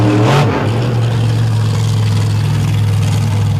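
A pulling truck's engine revs hard as it leaves the starting line at a Lake Erie all-stars truck pull, a loud sustained roar with a brief pitch swoop at the start, then a steady high drone.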